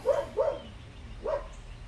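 A small shepherd dog gives three sharp barks, two close together and a third after a short pause, fairly near and clear against a quiet background.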